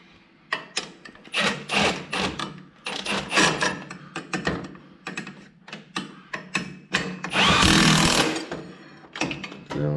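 An impact-style power tool tightens the trailing arm bolts on a Polaris XP in a series of rapid, loud rattling bursts with short pauses between them, close up, ending in one longer burst.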